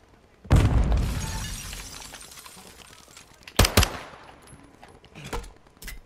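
A grenade bursts in the shooter game Modern Warfare 2 with a loud, sudden boom and a long rumbling decay. A second sharp blast follows a few seconds later, and faint crackles come after it.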